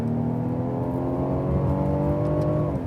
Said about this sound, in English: Whoa, the engine is really working uphill here then.